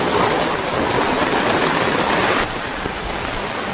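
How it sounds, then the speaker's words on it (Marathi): Heavy rain pours down beside a river, a loud, steady broadband wash of water that drops slightly in level partway through and continues without a break. "जोरात पाऊस इलो बेकार."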